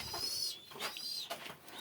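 A pigeon coos softly at a moderate distance, a couple of low murmuring calls in an outdoor setting with faint thin high-pitched tones above.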